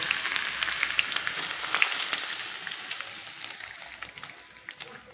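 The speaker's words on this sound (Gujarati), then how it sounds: "હવે આ બધો વઘાર આપણે ઢોકળા ઉપર રેડી દેવાનો છે।" Hot tempering with green chilli poured over semolina dhokla, crackling and sizzling steadily up close with scattered sharp pops, the sound easing slightly toward the end; nobody speaks.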